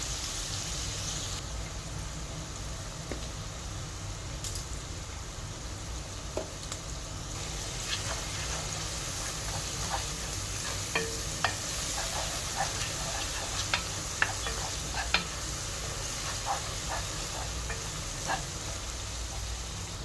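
Onions with salt sautéing in a pan for egg dum biryani, a soft steady sizzle with scattered scrapes and clicks from stirring, moderately quiet and continuous with no voices.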